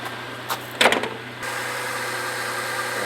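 A car engine idles steadily under an open hood, a low smooth hum running throughout, with a few brief clicks and rattles early on before it settles into an even drone.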